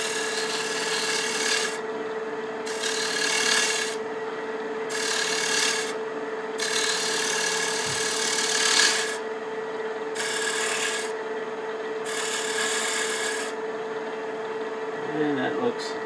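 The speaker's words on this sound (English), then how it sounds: "Let me just scrape this a little bit." Scraping tool on a wooden picture frame spinning on a lathe, rhythmic bursts of rasping against a steady motor hum, close and moderately loud.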